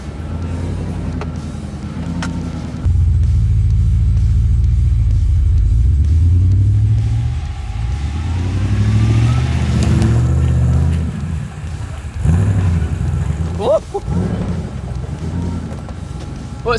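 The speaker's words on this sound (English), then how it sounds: "So I decided to back out and straddle the rut." A 4x4 with a canopy fitted backs out of a rut on an off-road track, its engine rumbling loud and close with swells of revving and some knocks near the end.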